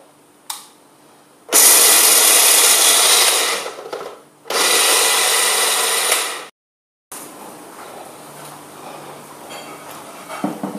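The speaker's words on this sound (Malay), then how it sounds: "Kita akan blender." A loud blender coarsely grinds fried peanuts for peanut biscuits in two long bursts with a short pause between, then stops before a quieter mechanical hum continues.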